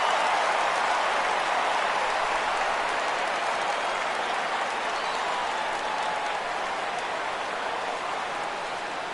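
A ballpark crowd in the MLB The Show baseball game roars and claps on a full 3-2 count, a dense, steady wash of cheering that holds for several seconds without easing.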